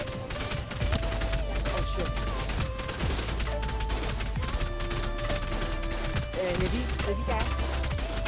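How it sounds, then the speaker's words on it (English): Dense automatic gunfire from many turrets in the video game ARK, rapid overlapping shots with crashes, loud and continuous throughout. "they have a lot of turrets here."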